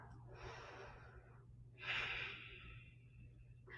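Slow, deep breaths during yoga practice: a long airy inhale, then a stronger, louder exhale, close to the mic and quiet overall, with no talking.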